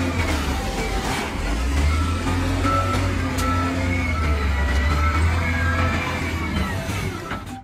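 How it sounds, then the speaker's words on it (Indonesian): A toy sand truck gives off steady electronic reversing beeps and tonal motor sounds, loud and close, continuing throughout with no one talking. "Di sini ada mobil truk pasir lagi."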